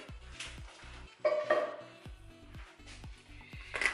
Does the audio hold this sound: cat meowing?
no